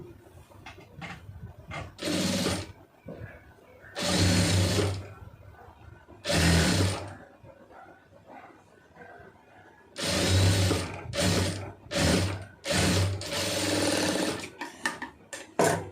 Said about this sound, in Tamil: இதில் ஒரு படிவான தையல் போட்டுருங்க